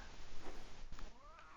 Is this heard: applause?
no